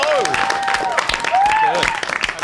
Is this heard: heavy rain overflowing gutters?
no